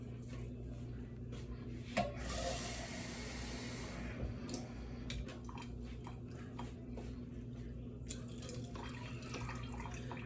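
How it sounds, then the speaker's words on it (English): About half a can of water splashes into a pot of pigeon peas and rice in a brief hissing pour, followed by scattered clinks and drips in a quiet room. "you can add your water now"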